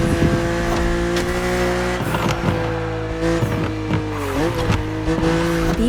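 Engine roar of a BMW Z roadster in a racing video game, loud and continuous with shifting revs, punctuated by repeated tire squeals and skids as it corners against an opponent.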